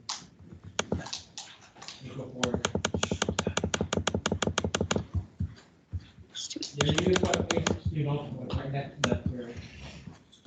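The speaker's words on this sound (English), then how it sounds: "Is this what I'm supposed to type in?" Rapid clicking from a computer keyboard during a beginner CSS coding lesson, coming in two dense bursts of keystrokes with people talking around them.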